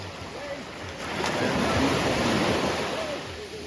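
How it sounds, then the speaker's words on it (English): Ocean waves roll in on the beach at Labadee, Haiti, a broad hissing surf that rises into a fuller wash midway and then eases off. It sounds near and steady, and faint voices are heard beneath it. "There's a little more waves coming in"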